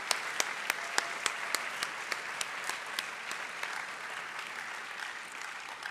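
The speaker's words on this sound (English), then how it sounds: "Let's give him a round of applause." A chapel audience gives a round of applause, several distinct sharp claps leading into a steady wash of clapping that holds evenly throughout, moderately distant and without voices.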